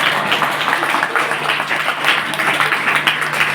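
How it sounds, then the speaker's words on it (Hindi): An audience at a Hindi church sermon claps loudly for the women, dense steady applause from many hands filling the room without pause. "जोरदार तालियां महिला सबके लिए, जोरदार तालियां।"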